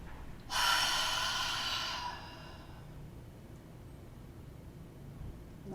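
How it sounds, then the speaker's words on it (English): Deep open-mouthed exhale, almost like a roar, taken during a guided breathing exercise: one loud, rushing breath lasting over a second, then fading into quiet room tone. "Open the mouth wide and exhale the breath out,"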